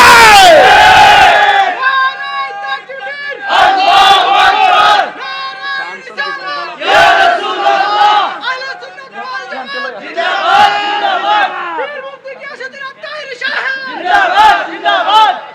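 A large crowd chants slogans in loud unison at a Bangladeshi religious sermon (waz), in repeated rhythmic shouted bursts with brief pauses between them.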